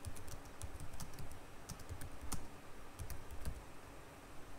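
Rapid clicking of computer keyboard keys while typing text in the Vim editor, a steady stream of close, moderately quiet keystrokes with occasional sharper taps, no voices.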